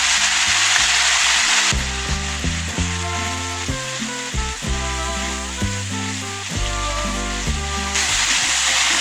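Chili powder and spices sauté in a pan as the base for tomato tangra fish, a Gangetic catfish curry. A loud, steady frying hiss with occasional stirring runs for most of the stretch beneath prominent background music.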